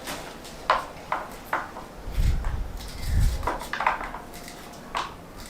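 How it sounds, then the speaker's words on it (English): Onions sliced by hand without a chopping board, village style, while preparing fish: soft, crisp knife cuts repeat at an uneven pace over a low background rumble. "Now I'll go ahead to cut the onions"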